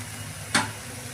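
Dry spices with salt, turmeric, roasted cumin and sugar are stir-fried with pointed gourd and prawns in a pan, a steady sizzle with one sharp scrape of the spatula midway, no talk.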